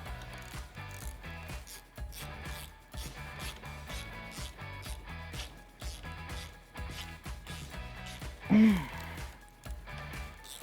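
A ratchet clicks in quick repeated runs while tightening T40 Torx bolts on a 2018-2019 Jeep JL Wrangler soft top, with metallic rattles and a louder clunk near the end.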